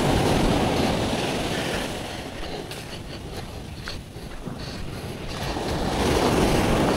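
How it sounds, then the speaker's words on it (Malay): Rough sea waves wash and surge around a small boat at the beach, a steady loud broadband roar that swells at the start and end with wind buffeting the microphone, no voices. "kasar sikit ombak"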